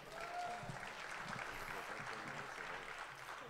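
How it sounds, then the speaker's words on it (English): An audience at a civic meeting about a dollar house program gives a round of applause, a faint, steady, distant-sounding patter of many hands that continues evenly for a few seconds, with a low murmur of voices underneath. "give the Chief of Staff to Mayor Cruson a round of applause."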